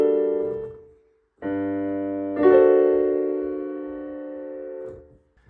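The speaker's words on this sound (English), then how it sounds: "It's good to end pieces on the minor chord with the major 7." Piano chords close to the ear: a minor chord with a major seventh in a jazz setting, struck as three separate sustained voicings, the last ringing longest before fading, with no talking.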